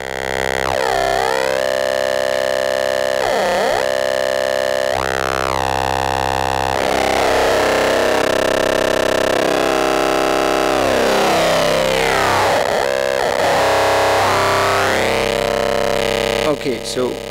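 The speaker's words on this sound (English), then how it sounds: "maybe we should turn off the distortion" A synthesizer wave driven through a wave folder with distortion and bit crushing, for modulated pulses, gives a dense, buzzing tone that sweeps and warbles continuously at a loud, steady level for the whole stretch.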